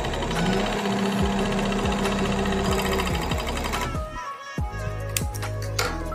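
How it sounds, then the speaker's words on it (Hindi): Household sewing machine running a long-stitch setting, its motor whirring loud and steady with rapid rhythmic needle clatter, a brief pause near the end before stitching resumes. "ये कितना बड़ा टांका हो गया कपड़ा कितना तेज़ी से भाग रहा है"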